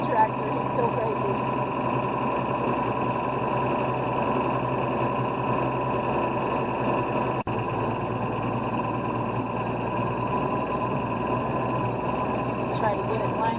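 A farm tractor engine runs steadily with a constant low drone and mechanical whine, close and loud throughout, with people talking over it.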